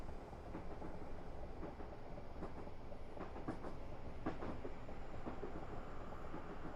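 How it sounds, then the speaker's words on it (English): A train passes somewhere in the distance on the Portsmouth Direct Line, its faint, steady rumble carrying irregular clickety-clack beats of wheels over rail joints, with no one talking. "I hear a train over there somewhere."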